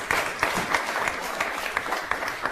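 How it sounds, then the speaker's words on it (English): An audience at a magic show applauds for a performer, a busy spread of overlapping claps with a few sharper individual hits standing out, moderately loud and steady throughout. "Let's give Mike a big round of applause."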